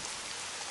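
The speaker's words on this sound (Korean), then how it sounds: "창밖에서 빗소리가 더 세차게 들려왔습니다." Heavy rain pours outside a window, a dense, even hiss of drops with no breaks or voices.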